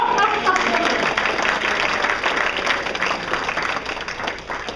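An audience claps at a talk on how management fleeces investors, steady applause filling the room throughout without a break.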